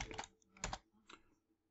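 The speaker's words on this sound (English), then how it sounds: "I'm gonna go ahead and type in done." Short burst of typing on a computer keyboard during a baseball card break, with three quick clusters of close key clacks in under two seconds and no voices.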